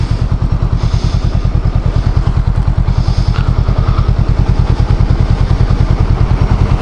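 A loud Honda Rebel 500 motorcycle engine runs close by with a heavy, steady throbbing rumble that keeps going throughout.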